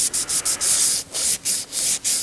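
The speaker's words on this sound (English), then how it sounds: "piece of 400 grit sandpaper, and I'm just gonna polish it up" Copper-plated scoring reel from a Gottlieb electromechanical pinball machine being polished by hand with 400 grit sandpaper: close, loud rasping strokes in a quick back-and-forth rhythm, roughly eight passes with short pauses between them.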